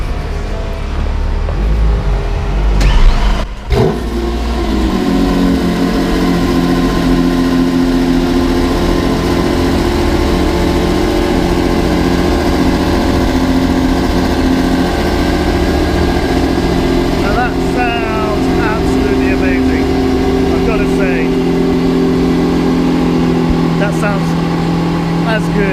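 A Lamborghini Aventador SVJ engine starts with a sharp crank and bark around three seconds in, then settles into a loud, steady, deep idle that holds close by for the rest of the clip.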